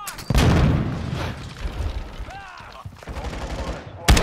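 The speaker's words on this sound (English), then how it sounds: "You are taking effective fire." Gunfire in the DMZ mode of a video game, with loud bursts of rapid shots and booming impacts close by and a final sharp crack at the end.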